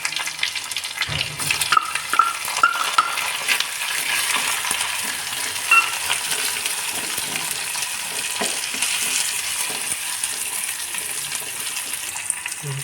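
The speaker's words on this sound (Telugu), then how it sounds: "ఇట్లనే ఇవి ఎరుపు రంగు బ్రౌన్ కలర్ వచ్చినంత వరకు ఇవి వేగాలి" Onions with green and dried chilies frying in oil alongside mustard seeds and cumin, a steady close sizzle and crackle with occasional stirring clinks, no voices.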